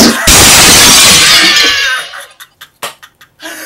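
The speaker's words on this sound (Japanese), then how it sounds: "玉が全部割れましたんで" Balls shatter and break with a loud, sustained crash, followed by several scattered smaller cracks and clinks of breaking pieces.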